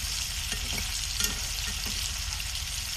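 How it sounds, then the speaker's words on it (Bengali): Hasra fish from a wetland lightly frying in oil in a pan, a continuous close sizzle with a few soft stirring knocks. "বুনা করার আগে একটু হালকা ভাজছিলাম।"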